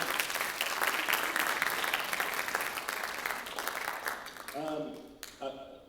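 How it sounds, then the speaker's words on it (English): Dense, sustained applause from a school audience at a closing ceremony, loud and steady for several seconds before thinning out, with a voice briefly heard as the clapping fades. "Big round of applause again."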